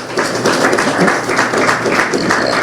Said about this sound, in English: Let's give her an acknowledgement and a round of applause